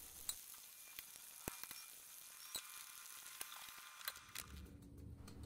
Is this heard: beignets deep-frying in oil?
yes